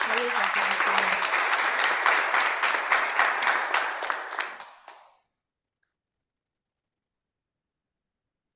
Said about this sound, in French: Accueillons-le avec de chaleureux applaudissements.